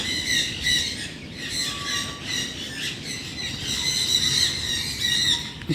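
Many birds chirp and twitter continuously in a busy outdoor chorus, steady and moderately loud, with no talking.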